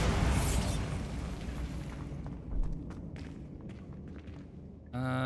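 A Bombarda blast spell in Hogwarts Legacy lands as a loud, rumbling explosion at the start and fades into scattered crackles and debris clicks, with a sharp burst of game effects near the end.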